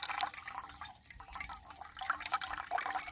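Water trickling through a Hydro Pack squeeze filter into a cup, a steady close splashing stream with fine drips, continuous for a few seconds without talk.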